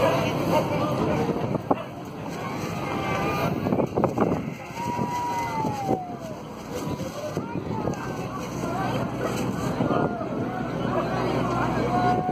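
Motorboat ride in Valparaíso, Chile: a steady engine and water rush runs throughout, with wind buffeting the microphone and people chatting nearby over the boat noise.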